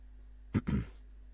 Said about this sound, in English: I'm just trying to clear my throat